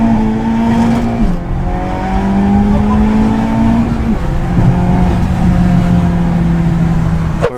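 A car accelerates hard up to nearly 90, its engine note climbing steadily in pitch through each gear, dropping back briefly at two upshifts before rising again, loud and close throughout.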